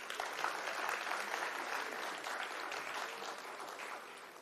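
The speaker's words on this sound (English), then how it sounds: "Let us all welcome him with a huge round of applause." An audience at an international summit in Lucknow gives a warm round of applause to welcome a speaker, dense clapping that holds steady for several seconds and then slowly fades.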